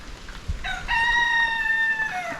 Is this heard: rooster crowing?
yes